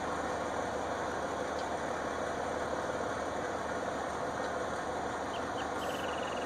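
A tractor engine idles in Farming Simulator 19 on the Goldcrest Valley farm, giving a steady, even mid-low hum at moderate volume that holds without change throughout.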